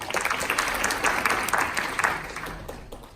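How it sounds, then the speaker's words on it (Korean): Audience clapping at a Korean physical education class presentation on longboarding, a steady sustained round of applause from a crowd that fades slightly toward the end, with no speech over it. "박수 한번 쳐주세요."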